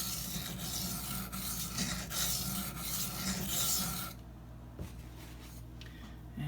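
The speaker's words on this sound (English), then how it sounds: "I'm going to do a few long strokes just to clean it up." Long, rhythmic rasping strokes on a sharpening stone as a Spyderco Endura knife with K390 steel is honed, several close scraping passes before the sound drops to quiet handling noises.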